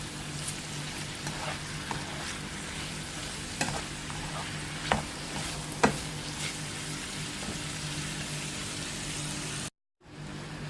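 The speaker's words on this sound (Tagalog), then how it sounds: "So, just stir fry." Chinese cabbage and egg tofu stir-frying in a pan, a steady close sizzle with occasional scraping knocks of the spatula, and a brief dropout near the end.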